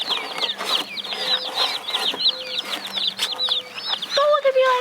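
Meat chickens on a homestead cluck and chirp continuously close by, with many overlapping bird calls and a louder squawk near the end.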